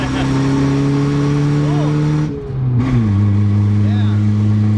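A 1981 Toyota Corona Wagon on home-made coilovers rumbles loudly with a steady droning exhaust note that dips briefly and then rises again. A voice speaks over the engine.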